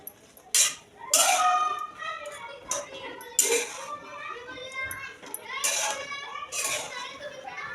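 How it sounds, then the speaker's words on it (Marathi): Children play and shout somewhere below a home kitchen, their voices rising in bursts of calls and high squeals at a moderate distance, with a few faint clinks of kitchen utensils nearby. "खाली पोरं खेळत आहे त्यामुळे तो आवाज तर येणारच"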